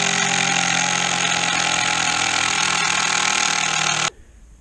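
A power driver drives a 6-inch timber lock screw into a wooden post for an A-frame corner or gate post, a loud, steady whirring grind lasting about four seconds before cutting off abruptly.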